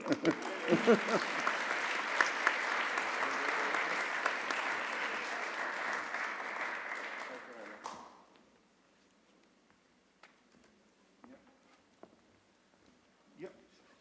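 Loud audience applause at the euRobotics Awards Ceremony, dense and sustained for about eight seconds before cutting off abruptly, followed by near silence with a few faint taps and shuffles.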